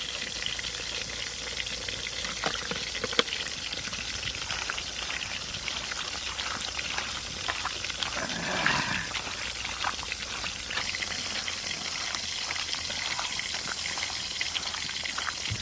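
Mustard oil is poured over hilsa fish coated in turmeric, chilli, cumin, ginger and onion pastes. A close, steady, liquid hiss and crackle runs throughout with no talk.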